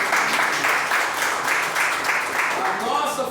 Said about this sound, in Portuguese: Pode aplaudir aí ao Senhor?